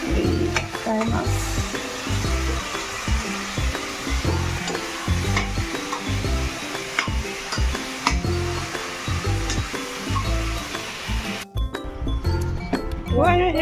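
Fish sizzles and fries in a pan, a loud continuous crackle broken by repeated stirring scrapes and occasional clinks of utensils against cookware, with a person talking now and then.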